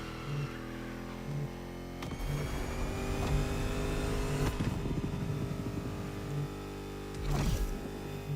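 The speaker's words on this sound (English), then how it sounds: "Corvette. I even remembered which car it was." A Chevrolet Corvette driven in The Crew Motorfest, a steady engine drone with intermittent beeping tones and a few sharp clacks and rushes, loud and continuous throughout.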